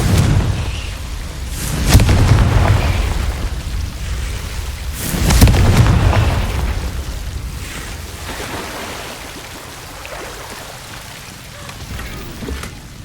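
Two heavy booming blasts from the Confringo fire spell in Hogwarts Legacy, the first near two seconds and the second near five and a half, each trailing into a crackling rumble over a low, steady game ambience.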